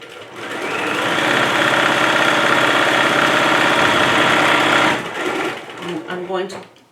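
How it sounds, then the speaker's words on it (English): Sewing machine running steadily for about five seconds while backstitching fabric on a handmade Valentine's Day bag, a loud continuous whir, then stopping before a voice speaks briefly. "I'm going to backstitch to lock my stitches at the opening"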